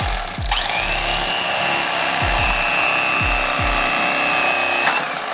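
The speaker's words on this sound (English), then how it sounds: "Now I'm gonna take my blade and just kind of, once I hit the button, I'm just gonna angle it like this and just come all the way down this" An electric fillet knife buzzes steadily as its powered blade slices down a crappie fillet, a continuous close-up motor whine with a few low thumps, no talking.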